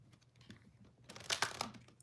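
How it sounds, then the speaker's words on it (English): Tarot cards riffled and shuffled by hand, a quiet papery crackle with short bursts that rise into a denser flurry in the middle before tapering off. "if I can shuffle properly"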